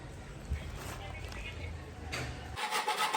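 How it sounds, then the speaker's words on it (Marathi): Dried coconut is grated by hand while homemade chilli masala is prepared. The close, rasping scrape repeats steadily for about two and a half seconds, and a brief sharper scrape near the end is heard alone. "खोबरं खिसायचं काम सुरू आहे"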